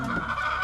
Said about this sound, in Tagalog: Ang ingay ng manok talaga.